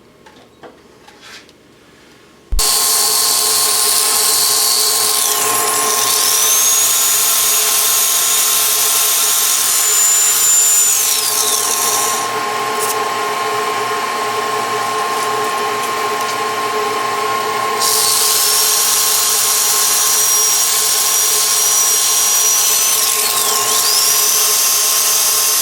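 A wood bowl being sanded on a lathe, a steady loud whine that cuts in abruptly after a few quiet seconds and runs on continuously, with a rising and falling high tone as the sanding pressure shifts.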